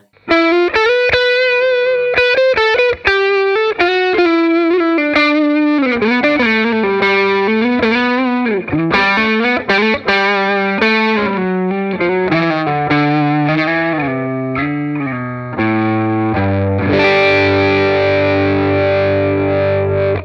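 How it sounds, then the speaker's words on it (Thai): Distorted electric guitar through a Marshall amp fitted with a Celestion speaker, played as a loud, saturated melodic run with bends and sustained notes, ending on a thick held chord. "อ่าทีนี้ลองไปฟังกับเสียงแตกดูไหม"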